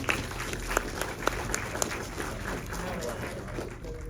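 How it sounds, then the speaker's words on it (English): Applause from an audience at a horror film Q&A, moderately loud and sustained, with a few sharp individual claps and whoops standing out early before settling into an even patter. "We got applause."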